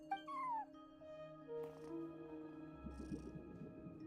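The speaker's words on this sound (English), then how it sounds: "except for a cat watching over the front desk." A cat meows several times at a front desk in Genshin Impact, with high drawn-out calls early and a softer, rougher meow later against quiet ambient game tones.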